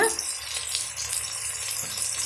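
Chopped onions sautéing in hot oil in a pan for a vegetable salna, giving a steady, close sizzle and crackle throughout with no voices.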